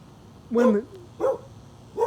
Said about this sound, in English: ignore the dog there